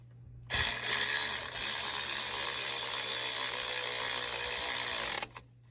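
A power tool spins up abruptly and runs loud and steady for about five seconds, driving a bolt tight on a bracket during a clutch replacement on a 2005-2010 Chevrolet Cobalt, then cuts off sharply with a brief click after.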